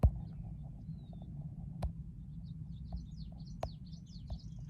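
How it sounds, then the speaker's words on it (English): Birds chirp and twitter outdoors in faint, quick high calls scattered over a steady low background hum, with a couple of sharp clicks and no voices. "And the birds."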